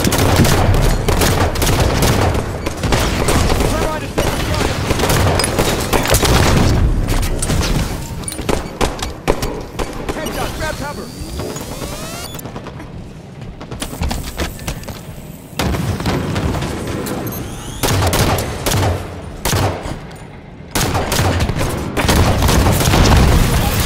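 Grenade and rocket blasts pile up during a Halo 5 Guardians ranked Slayer match, with loud booms and heavy gunfire sounding almost nonstop. There are a few short breaks, and faint voices can be heard now and then.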